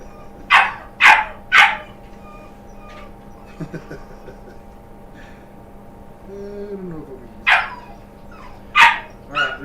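A big seven-week-old puppy weighing 20 pounds barks in a quick burst of three sharp yaps, gives a short whimpering whine, then barks a few more times near the microphone.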